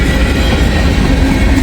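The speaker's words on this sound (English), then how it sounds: "Looks like a grain train, like an empty grain train." An empty grain freight train passes close by on a Kentucky line, a loud continuous rumble of rolling hopper cars with clattering wheels and a brief squealing tone, no voices.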